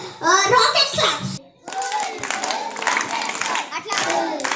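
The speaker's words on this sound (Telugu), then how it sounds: "Next rocket claps." A group of children performs rocket claps in a classroom. Quick bursts of hand clapping ring out close and loud, briefly pausing, then continuing as a dense patter with children's voices mixed in.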